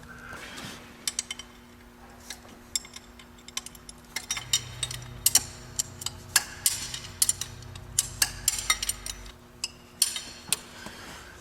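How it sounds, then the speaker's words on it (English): A wrench loosens bolts on the intake of a 1997 Nissan 2.4L engine, with irregular close metallic clicks and clinks of the tool on fasteners, and a low hum present for part of the time. "I think the rest I'll just get with a wrench. I can actually fit a wrench down in there."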